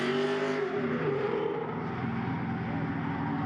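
A drift car runs through the track at a BCDA Grassroots Round 4 drifting competition at Agassiz Speedway, its engine holding a loud, steady, close-up roar that thins slightly in pitch.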